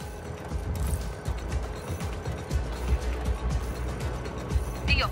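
Engines being repaired in the video game Just Cause 4, giving a dense mechanical clatter of ratcheting and gear-like clicks over a low rumble, fairly loud and continuous without talk.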